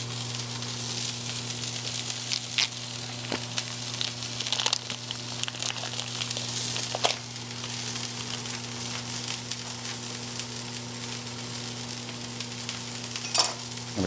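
A hot dog fries in a pan with a steady crackling sizzle and occasional sharper pops, while a low constant hum runs underneath throughout; nobody speaks.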